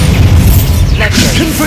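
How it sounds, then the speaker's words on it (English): Bombarda blasting spell going off in Hogwarts Legacy: a dense, loud booming rumble during combat, with crackling bursts and game sound effects layered throughout. "Bombarda!"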